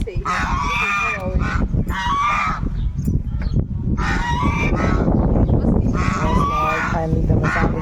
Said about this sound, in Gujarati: લાઈવ મેં ફર્સ્ટ ટાઈમ સાંભળેલો છે હંસનો અવાજ